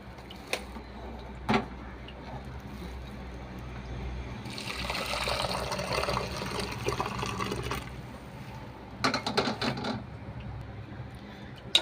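Rasam poured into a serving vessel over coriander leaves, a soft liquid splash and trickle at close range in a quiet kitchen, with a few brief clinks of the pot.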